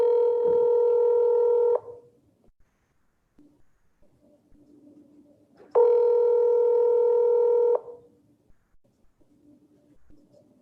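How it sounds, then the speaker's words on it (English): Telephone call-progress tones sound as a phone call is placed: two long, loud ringback tones about four seconds apart, each lasting nearly two seconds, with faint line noise between them. "So here goes the phone call."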